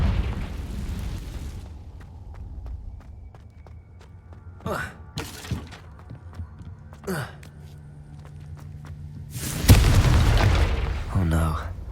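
Fire spell blasts from Hogwarts Legacy gameplay: a broadband burst near the start, several sharp bursts in the middle, then a loud roaring explosion near the end, over a low rumbling game backdrop with someone speaking at times.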